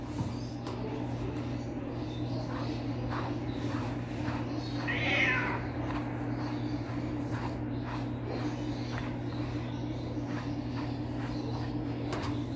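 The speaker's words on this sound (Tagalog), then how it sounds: "Ganito ang pusa." A cat meows briefly, a single mid-pitched call standing out once over a steady hum during dry cleaning grooming, with occasional light handling noises around it.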